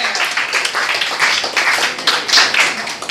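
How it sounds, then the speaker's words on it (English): Steady, close applause from a comedy night audience at Cafe Diem in Richmond, Virginia, with dense overlapping handclaps continuing throughout. "Give yourselves a round of applause"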